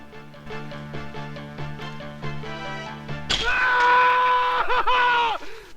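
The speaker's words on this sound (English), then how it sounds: "Steps on a trap, screams at the top of his lungs, and alerts anyone in the area to his team's position." A man in the jungle action film Robowar lets out a sudden, loud, sustained scream after stepping on a trap, cutting in over a synth soundtrack.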